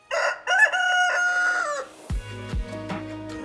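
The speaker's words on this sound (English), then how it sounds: "And a red rooster." A rooster crows once in a long, loud, nasal call close by, then deeper clucking and honking tones from other farm animals follow, with no talking.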